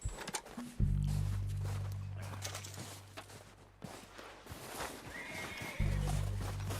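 Horses whinny loudly at the start and end in Red Dead Redemption 2 gameplay, with steady hoof clip-clops and a low droning hum running underneath throughout.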